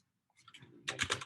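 Quick burst of computer keyboard typing while entering a numeric value in a CAD program: a few soft taps, then a dense run of sharp, close key clicks, with no talking.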